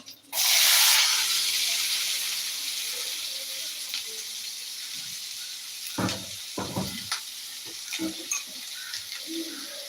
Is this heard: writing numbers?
no